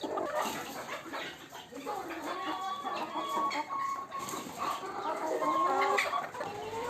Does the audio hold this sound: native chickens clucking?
yes